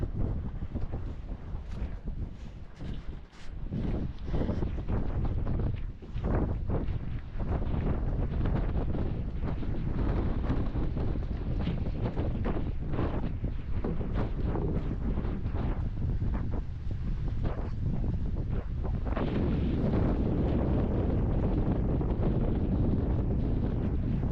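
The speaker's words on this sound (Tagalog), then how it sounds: "Grabe lakas ng hangin" Strong monsoon wind roars and buffets the microphone continuously, heavy gusts rumbling and whooshing with no break for the whole stretch.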